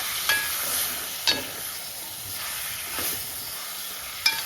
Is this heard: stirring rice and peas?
yes